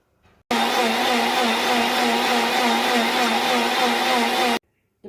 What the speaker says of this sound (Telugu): మిక్సీ పట్టేశానండి